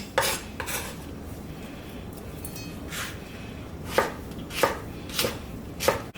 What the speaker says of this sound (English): you notice how I just give that a little choppy chop